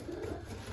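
Pigeon hens coo softly on a shelf, a faint low murmur under background hiss, with a short deeper coo at the end.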